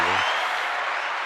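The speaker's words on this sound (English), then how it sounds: "They gotta clap a little louder than that, bro." Brief applause from a podcast audience, a steady wash of clapping that fades slightly over about a second, with a low voice cut off at the very start.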